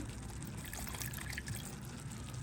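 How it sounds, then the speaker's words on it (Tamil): Water trickles steadily into a cup while making homemade paneer curry, a soft continuous pour running close by for a couple of seconds with no talking. "இந்த கப்புக்குள்ளேயே ஒரு சொட்டு தண்ணியை விட்டு"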